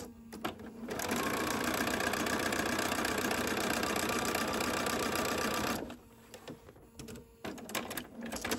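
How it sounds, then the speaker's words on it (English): A sewing machine stitches fabric strips for a quilt block in one continuous, steady whirring run of about five seconds, close and clear, then stops, leaving faint handling noises. "I will sew these and then show you how to assemble this block"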